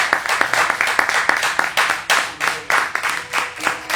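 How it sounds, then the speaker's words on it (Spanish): A church congregation claps together in praise during a Spanish-language worship service, steady rhythmic hand claps filling the room, loud and continuous with a few voices mixed faintly underneath. "Démosle un aplauso al Señor"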